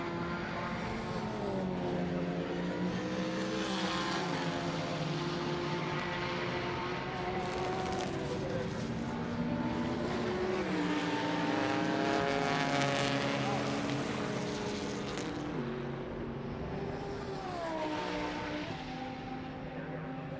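BMW Z4 and Aston Martin GT4 race cars howl past at Snetterton during a British Endurance Championship race, engine notes rising and falling through gear changes, loud and continuous with a commentator speaking over them.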